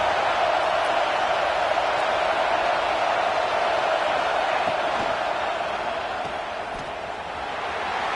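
A stadium crowd at a Washington vs UCLA college football game roars in a steady, dense wash of noise during a third-and-goal play.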